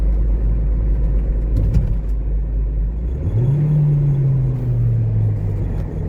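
A Ford Transit van on a test drive with a gearbox fault: a steady, close cabin rumble of the engine and road, with a smooth rising then levelling engine tone partway through.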